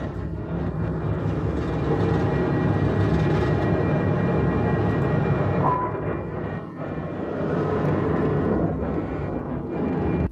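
A steady, loud roar of airliner jet engines during takeoff fills the whole stretch, a dense low rumble with a faint high whine on top and no voices.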